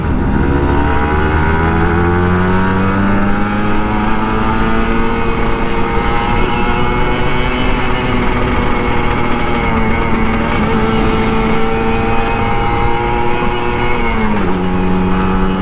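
Kawasaki Ninja RR 150 two-stroke motorcycle ridden in third gear climbing a slope, a loud buzzing engine close up whose pitch rises steadily, then dips briefly near the end, with no talk.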